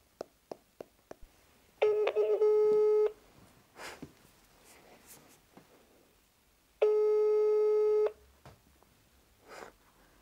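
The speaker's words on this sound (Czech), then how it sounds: "Já na ní sice nemám mobil, ale půjčím si mobil od tady babičky Moni návrhářky Marie Zelené a jdu ho vyťukat" Mobile phone keypad tones tapped out as a number is dialed, followed by two long, loud, steady busy-signal tones separated by a pause.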